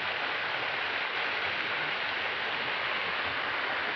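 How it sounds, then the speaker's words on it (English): Wind-driven rain blowing onto a camera lens during a walk around Royal Leamington Spa, Warwickshire, giving a constant, dense hiss and rumble with no breaks and no talking. "Got rain on the lens, it blew so far."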